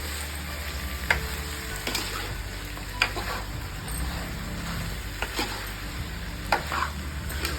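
Country chicken curry being stirred in a hot pan with salt, steady sizzling frying hiss broken by sharp scrapes and knocks of the spoon against the pan.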